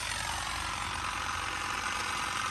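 Saker cordless hedge trimmer cutting a hedge, a loud, dense, continuous buzzing rattle of reciprocating blades held close and steady throughout, with no voices.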